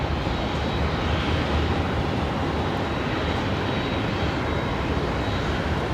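A Qantas jet airliner roars overhead at Brisbane Airport at night, a loud, steady broadband engine rumble filling the whole stretch with no talk.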